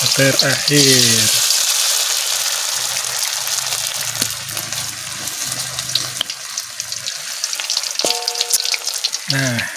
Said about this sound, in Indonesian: terakhir gorengnya terakhir